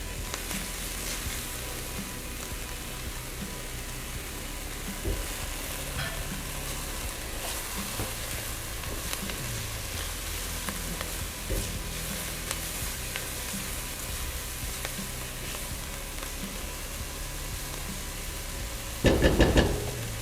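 Garlic frying in a pan for white bean chicken chili, an even close hiss of sizzling oil sustained throughout with a few soft stirring scrapes and a brief louder burst at the end.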